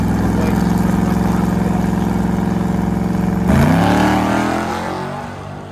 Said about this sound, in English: this is Blake in the 72 Plymouth Duster